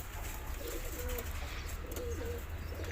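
Pigeons, a mix of Shobondo, Crontaya and other fancy breeds kept in a loft, coo in low soft repeated phrases beneath a steady broadband background hiss.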